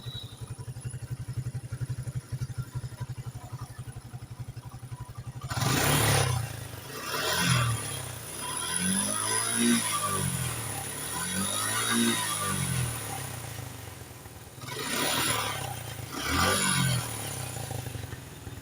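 A Suzuki Gixxer Monotone motorcycle running in first gear, showing a rough rather than smooth note: a close, pulsing single-cylinder idle broken by several loud revs that rise and fall, with some rattling clatter.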